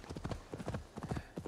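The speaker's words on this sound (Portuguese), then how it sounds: "Ah, meu cavalo tá aqui?" Horse hooves clip-clopping in the Assassin's Creed Valhalla video game, a steady run of distinct hoofbeats at close range across the whole stretch, with no voice over them.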